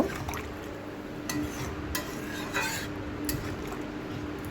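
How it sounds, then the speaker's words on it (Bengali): Vegetables with matar dal being stirred in a pot after water is added, with soft, intermittent spoon scrapes and clinks over a constant background hiss, close and without talk. "তো জলটা দিয়ে আমি ভালো করে নেড়ে নেব"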